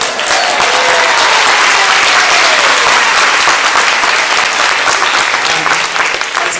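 Audience applause filling Storey Hall at an Extinction Emergency event at RMIT: loud, dense clapping from a large crowd, sustained evenly throughout with a faint voice briefly beneath.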